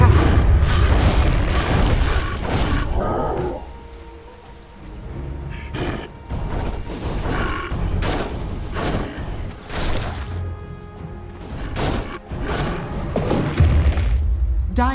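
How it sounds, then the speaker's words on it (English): Tower-attack combat in Dota 2 pro league play comes through as loud booms, thuds, whooshes and crashing impacts in dense bursts, with a brief lull midway. "Radiant's top tower is under attack."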